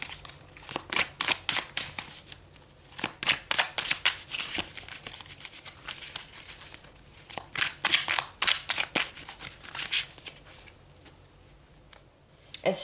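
Tarot cards are shuffled close by in quick, crisp riffling flurries, with soft pauses between the bursts.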